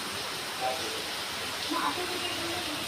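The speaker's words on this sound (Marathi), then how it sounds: "बाहेर पाऊस पडतोय आणि त्याचाच आवाज येतोय" A steady, even hiss of rain fills the background throughout, with faint voices murmuring over it.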